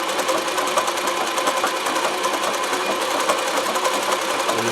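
A Consew CN2053R-1A industrial sewing machine stitches free motion embroidery, giving a loud, steady, fast mechanical whirring and clatter that runs unbroken throughout with no speech.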